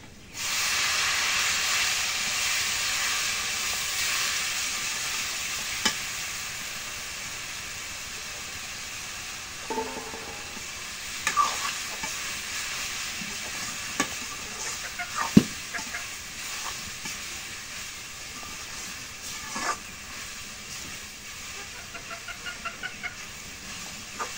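Leafy greens stir-frying in oil with green chilli, garlic and onion make a steady loud hiss that starts abruptly and continues, with scattered clatters and a few ticking knocks of utensils toward the end.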